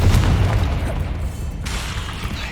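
A Confringo fire spell exploding in the video game Hogwarts Legacy, a deep rumbling boom at the start that fades into a sustained roar, with another burst hitting partway through.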